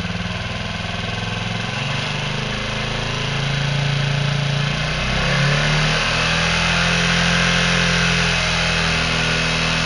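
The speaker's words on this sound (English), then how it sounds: "let's see if we can throttle it at all." A hydrogen-fueled scooter engine revs loudly under throttle, its close, continuous buzzing drone swelling and holding higher partway through with no pauses.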